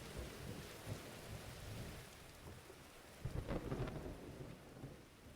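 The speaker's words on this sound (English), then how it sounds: "The storm rages." Steady rain pours through a game thunderstorm in Diluvian Winds, with low rumbling thunder swelling midway and then fading under the downpour.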